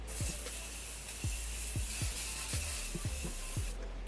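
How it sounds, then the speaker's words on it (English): Makeup fixing spray mists out in a continuous close, loud hiss lasting about four seconds before cutting off, with soft repeated clicking or tapping beneath it. "Let me put some fixing spray again"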